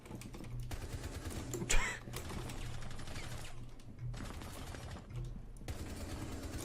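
Video game gunfire from a firing squad, a dense rattle of rapid shots in sustained bursts with one louder crack, heard through game audio with no talking.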